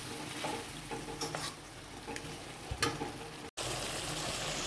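Fish simmers in a pan for Bengali machher peyaji, giving a steady, dense sizzle with faint stirring scrapes throughout and one brief dropout near the end.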